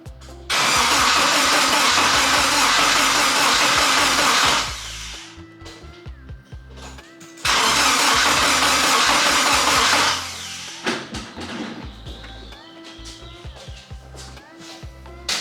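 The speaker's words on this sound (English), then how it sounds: "hopefully this will be the cranking" A BMW E30 fitted with a Honda K24 engine cranks on the starter in two long, loud bursts of several seconds each, separated by quieter pauses with clicks and shuffling nearby.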